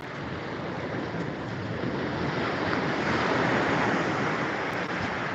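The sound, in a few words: ocean waves washing up on the beach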